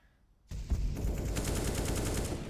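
Sustained rapid automatic gunfire from a rifle spray through smoke in Counter-Strike, starting abruptly after a quiet moment and continuing loud and dense with rapid repeated cracks to the end.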